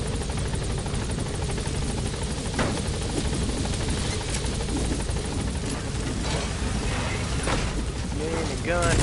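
A helicopter hovers in a video game, its dense rotor and engine roar steady and loud throughout, with mechanical rattling and brief clicks layered over it.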